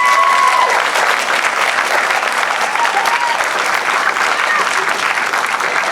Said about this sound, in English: Another round of applause for our wonderful actors here